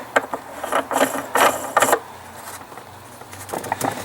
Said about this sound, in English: so I can almost just screw this in